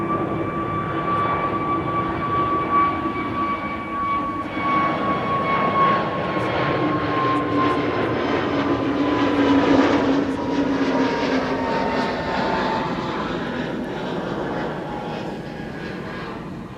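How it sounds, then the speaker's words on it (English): Airliner taking off from runway 24, the Kaagbaan, at Amsterdam Schiphol, with a loud sustained engine roar and a slowly shifting whine heard at a distance, swelling and fading over several seconds. "Runway 24, primary runway for departures."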